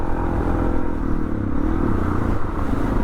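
A Suzuki DR650 motorcycle rides off-road on open ground, its engine a steady, close rumble with some clatter and scraping from the bike over rough terrain; no voices.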